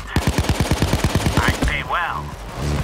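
Rapid automatic gunfire strikes the player during a SWAT assault in the Payday 2 heist video game, a loud burst of about a dozen evenly spaced shots followed by brief game effects.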